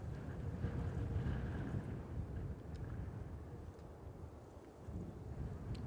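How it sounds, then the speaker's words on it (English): Steady low wind rumbles across the microphone at an airport plane-spotting spot, a continuous buffeting roar with no voices. "Wind's picked up a bit."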